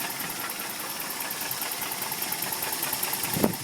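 A Toyota 22RE engine idles steadily up close with a continuous mechanical clatter, a faint knocking texture running under the drone, and a brief louder tick near the end.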